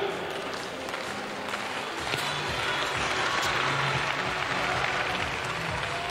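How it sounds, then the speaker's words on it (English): An indoor athletics crowd at a European indoor championship in Glasgow keeps up a dense, continuous wash of clapping and cheering around a long jump attempt, with a commentator's voice over it. "How's your rhythmic clapping? Let's get the Glasgow noise going for him."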